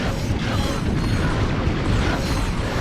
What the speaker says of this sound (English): now instead of lasers, it fires missiles